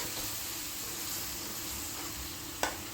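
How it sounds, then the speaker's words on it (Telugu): Masala and ginger-garlic paste fry in a pan for a fish curry, a steady soft sizzle running throughout with one brief sharper crackle near the end. "ఈ పేస్టు అల్లం వెల్లుల్లి పేస్టు వేసింది కూడా బాగా వేగాలి"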